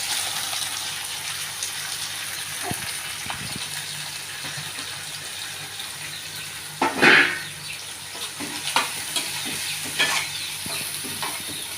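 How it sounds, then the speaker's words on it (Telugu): Onions frying in oil in a kadai for a prawn gravy curry, a steady close sizzle with a louder burst of crackle midway and occasional stirring scrapes, no talk. "ఉల్లిపాయలు వేస్తున్నాను."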